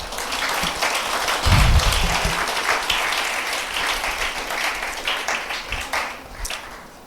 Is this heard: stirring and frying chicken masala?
no